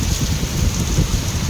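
Heavy monsoon rain falls hard, a loud, dense roar of drops pounding surfaces nearby with a low rumbling undertone, steady and without voices.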